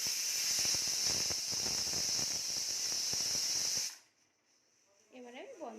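A pressure cooker holding rajma on a high gas flame releases a loud, steady whistling steam hiss for about four seconds, then stops abruptly, leaving near-quiet and a brief voice.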